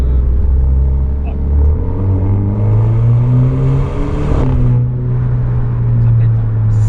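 An Alfa Romeo Stelvio in sport mode, heard from inside the cabin: a steady low engine drone rising with acceleration, then a brief crackle from the exhaust, with the engine note continuing afterward.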